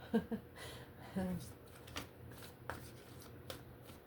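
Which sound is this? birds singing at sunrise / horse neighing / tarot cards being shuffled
tarot cards being shuffled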